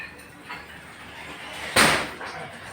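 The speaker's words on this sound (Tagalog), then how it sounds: "Ayan yung pinto natin guys." A newly built wooden door in a living room under renovation swings and shuts with one loud knock-like thump over low room noise, followed by a fainter rattle.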